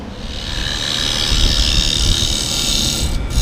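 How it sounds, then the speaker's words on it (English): A wood lathe spins a black walnut lidded box while a tool scrapes the inside, a steady close whirring hiss with a rough grinding undertone, continuous and loud, without talk. "I'll just scrape the length of it out and get it all straightened out"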